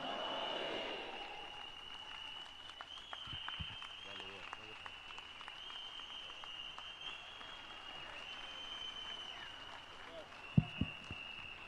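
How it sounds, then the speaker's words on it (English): Audience applause at an ANC provincial conference in Limpopo, heard as a steady, moderate wash of clapping in a large hall, with a high tone persisting throughout and a couple of sharp thumps near the end. "Another round of applause"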